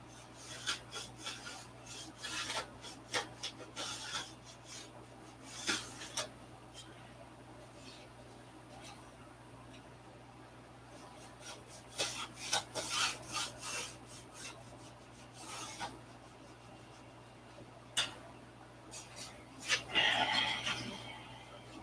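Hand trimming of a hard wooden part for a model aircraft fuselage, with intermittent rasping, scraping strokes in bursts, fairly faint and close, under a steady low hum, with a few moments of talk.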